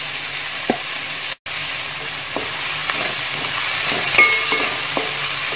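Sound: onions sautéing in a pan for Kerala beef kurma

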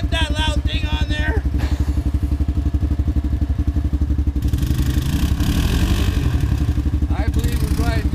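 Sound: Honda Rancher ATV engine with loud power tip exhaust

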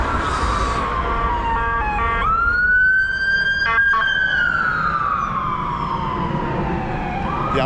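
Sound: ambulance siren passing in street

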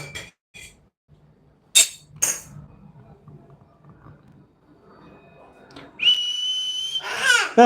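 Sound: pressure cooker whistle

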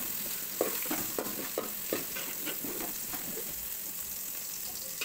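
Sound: onions sautéing in oil in a pan

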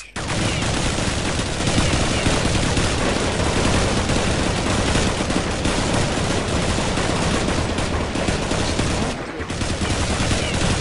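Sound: gunfire in video game Counter-Strike 1.6

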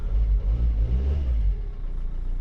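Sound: car engine running

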